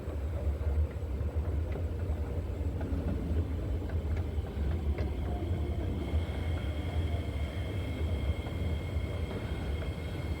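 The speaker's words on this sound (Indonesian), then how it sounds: "Sebelah kereta sudah sampai" A continuous low rumble and rolling noise of a train arriving at Jurong East station in Singapore, with faint squeals and rattles, steady throughout and no voices.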